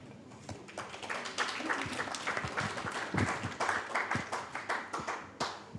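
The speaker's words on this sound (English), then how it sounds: "I'd like to ask everyone to give our panelists a round of applause" Sustained applause from an audience honoring panelists at a research dissemination meeting in Kilifi, a steady wash of many hands clapping that swells slightly and holds for several seconds with no talk over it.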